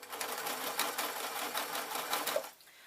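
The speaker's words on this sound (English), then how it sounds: "And again, reverse stitch" A sewing machine runs steadily, stitching a parachute fabric piece onto a toy bear with a reverse stitch, its rapid needle chatter continuous and close before stopping near the end.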